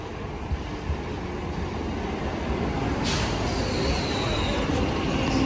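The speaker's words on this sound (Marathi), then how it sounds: "हे बघा लोकल" A Mumbai local train passes close by with a steady, loud broadband rumble and rattle that swells slightly toward the end, the wheels and carriages filling the whole stretch.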